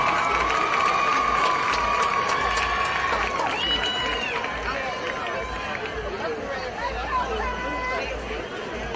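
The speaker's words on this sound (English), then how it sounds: "Let's give our homecoming queen a round of applause" Crowd noise at a high school football game's homecoming queen recognition, with cheering, chatter and scattered clapping from a large gathering, whistles and shouts rising over a broad, steady wash of voices.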